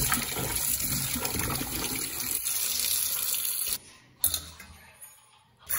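Tap water runs steadily into a sink for washing during kitchen prep, a close rushing stream that cuts off after nearly four seconds, followed by a couple of brief clanks and a short splash.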